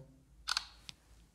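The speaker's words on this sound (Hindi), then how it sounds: "तो सबसे पहले एक मैं पिक्चर क्लिक कर लेता हूँ" A Tecno Camon 18T smartphone's 48-megapixel rear camera takes a picture: a quick double shutter click, then a softer single click moments later, close up in a quiet room.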